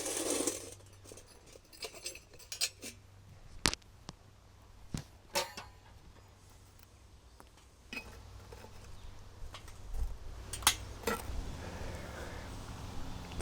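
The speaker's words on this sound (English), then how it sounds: "I'm going to remove the coals from the top of this Dutch oven" Hot coals lifted off the lid of a cast-iron Dutch oven, scattered faint metallic clinks and scrapes with sharp taps at irregular intervals over a quiet outdoor background, no speech.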